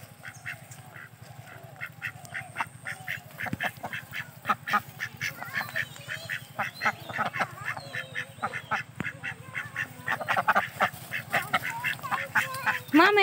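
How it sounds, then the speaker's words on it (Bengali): Ducks quack repeatedly outdoors in a lively, overlapping chorus of nasal calls at close to middle distance. The calls grow denser and louder toward the end, with faint voices in the background. "হাঁস দেখো,"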